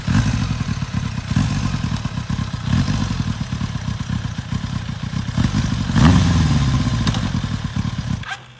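A custom silver 1999 Kawasaki ZRX1100 motorcycle running close by with a full exhaust, a steady rough idle with a throttle blip that rises briefly, then cuts off abruptly near the end.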